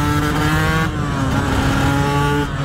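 A TM 125 fuel-injected motorcycle engine revs loud and close, a continuous buzzing two-stroke tone that shifts pitch partway through.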